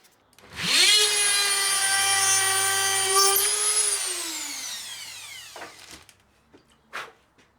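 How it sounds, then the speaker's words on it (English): A power drill bores into a polished guitar body with one sustained whining run. The motor spins up, holds steady while the bit cuts, then winds down, followed by a few faint handling knocks. "We've got to drill into that now so that we can fit the other button."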